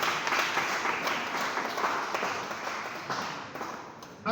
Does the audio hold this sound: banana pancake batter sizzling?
no